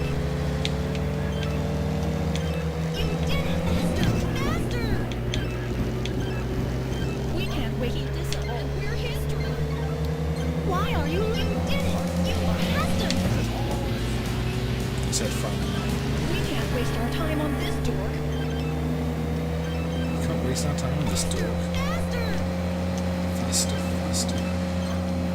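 Motorcycle engine in a MAME-emulated arcade racing game, a steady droning whine that rises gradually in pitch, with a sharp crash break near the middle, under continuous game sound and talking.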